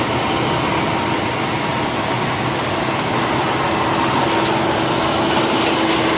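A 2012 Standard Horizon Stitchliner 5500 bookletmaker paired with an HOF 400 runs with its blower on at up to 45,000 sheets an hour. It gives a loud, steady, continuous machine roar and hum with no talking.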